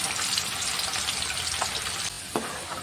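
Mixture ingredients deep frying in hot oil, a steady dense sizzle and bubbling throughout, with a brief drop in level and a short scrape of a slotted spoon near the end.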